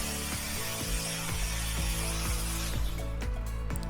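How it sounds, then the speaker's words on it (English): A metal mounting plate for a custom shifter is cut out with a power tool, giving a dense, continuous grinding rasp punctuated by regular rhythmic knocks, loud and close throughout. "sitting on this mounting plate that I'm cutting out right now"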